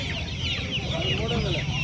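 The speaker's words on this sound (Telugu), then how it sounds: "ఇవి వచ్చేసి ఫ్యాషన్ కోళ్ళు అండి" Fancy feather-footed chickens, including Giriraja birds, cluck steadily at a busy village poultry market, their calls close and continuous over a dense crowd murmur.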